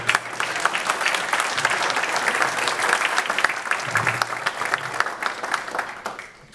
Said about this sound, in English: I'll wait for the applause